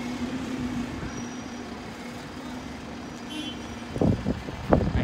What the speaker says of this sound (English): We've got another Alphonson bus coming up